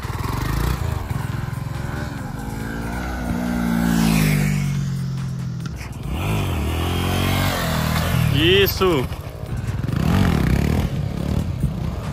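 A Honda Sahara 300 motorcycle engine rises and falls as it is ridden nearby, with revving swells and some scraping clatter, while people talk over it.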